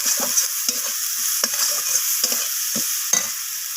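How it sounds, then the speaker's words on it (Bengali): Garlic paste is stirred into frying tomato and onion for a Bengali rui fish kalia, with a constant sizzle under repeated scraping stirs at an irregular rhythm, close up and with no talk. "রসুনটাকে দিয়ে আমি টমেটো পেঁয়াজের সাথে এইভাবে নাড়াচাড়া করে নিচ্ছি"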